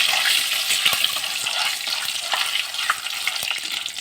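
Loud, crackling sizzle of whole spices frying in hot oil for mutton kosha, with sharp pops and scraping stirs scattered throughout.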